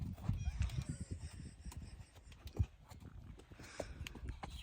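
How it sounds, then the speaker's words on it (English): Horses walking close by on a ranch, a scatter of quiet hoof clops and shuffling steps with an occasional faint snort, fairly near and irregular. "Surrounded by these horses. They just keep coming to me."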